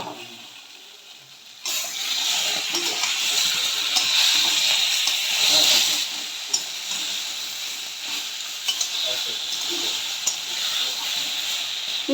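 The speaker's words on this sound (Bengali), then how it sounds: "মশলাটা এখন এতে আমি দিয়ে দেবো।" Ground spice paste sizzling and frying with vegetables in a hot kadai, a steady close hiss that starts abruptly as the paste goes in and keeps crackling under occasional stirring.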